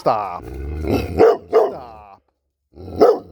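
A large dog barks a few times at close range in woodland, short gruff bursts with a pause between, mixed with a person's affectionate talk to the dogs.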